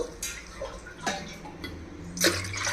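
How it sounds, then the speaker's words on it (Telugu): Water is poured glass by glass into a pot for prawn pulao, with short splashing bursts and clinks separated by pauses, close and fairly quiet. "నాలుగున్నర గ్లాసులు నీళ్ళు పోస్తున్నానండి"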